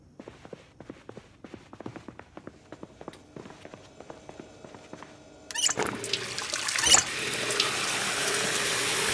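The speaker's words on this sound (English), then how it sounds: "except for the orange soda bottle that I will fill with water" Tap water running into an orange soda bottle as it fills in Project Zomboid, a steady loud rush of water starting partway through, preceded by quieter game sounds and light footsteps.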